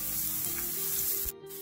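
Grated coconut and finely chopped garlic saute in a pan for a ginger curry, giving a soft, steady sizzling hiss that fades briefly near the end.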